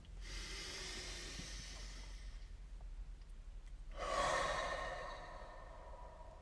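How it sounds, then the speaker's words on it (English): A person takes slow, deep breaths in through the nose and out through the mouth, one long soft inhale followed by a louder, airy exhale, close and quiet with no talking. "3 deep breaths, in through the nose,"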